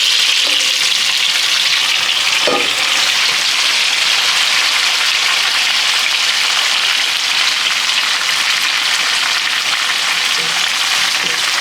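Shrimps sizzle in a pan with browned garlic, a loud, steady, close frying hiss that stays dense throughout with a few faint clinks of stirring.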